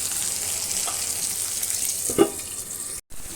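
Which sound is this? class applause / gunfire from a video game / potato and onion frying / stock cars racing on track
potato and onion frying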